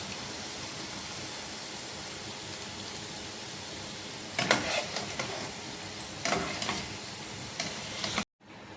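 Ginger frying in hot oil for a lime pickle, a steady soft sizzle with bursts of spoon scraping and stirring in the second half, ending abruptly.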